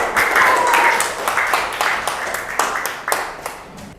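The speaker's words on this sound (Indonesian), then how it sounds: "Tepuk tangan untuk Nabil yang masih benar terus." Classroom applause for a student, a short burst of clapping from a group of pupils that starts full and thins into scattered separate claps, with some faint voices mixed in.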